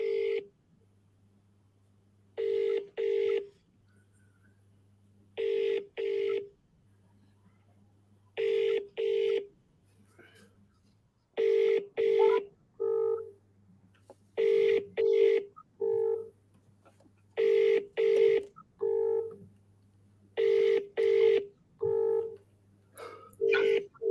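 Telephone dialing and ringback tones during cold calls, repeated paired tone bursts in an even rhythm separated by steady low hum, clear and close with no talking.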